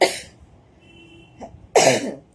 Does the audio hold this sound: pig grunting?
no